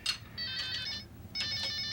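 A video phone in a futuristic setting rings with a bright electronic warbling tone in two bursts separated by a short gap, clear and alone.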